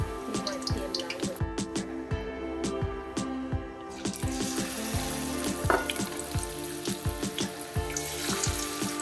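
Chilapi fish frying in hot oil in a home kitchen, a steady bubbling sizzle with frequent sharp pops and crackles throughout, close and continuous.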